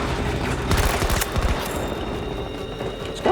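Gunfire in the shooter Battlefield 2042 rattles in a quick close burst of several shots, then fades into ambient game noise with no talking.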